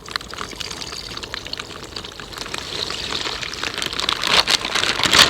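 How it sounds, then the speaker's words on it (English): Old rinse water being poured into a tub of wash water outdoors, a steady splashing pour that grows a little louder and busier toward the end, heard on its own. "I'm going to take this rinse water that's getting kind of old and pour some of it in there"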